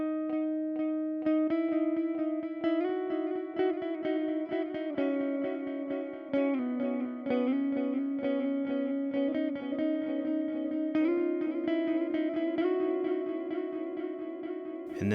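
Electric guitar played through an amp simulator on an Akai Force with distortion and delay, picking a sustained, echoing melodic line of repeated notes, loud and alone, with no talking.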